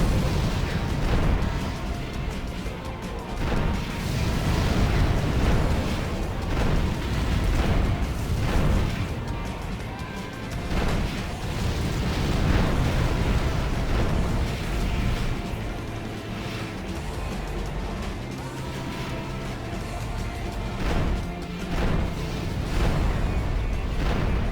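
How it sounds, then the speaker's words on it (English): Rockets destroy turrets in Armored Core For Answer, with a dense, continuous barrage of explosions and bursts, repeated booms layered over a constant roar of mech combat. "destroy all the turrets. Made very easy by our rockets"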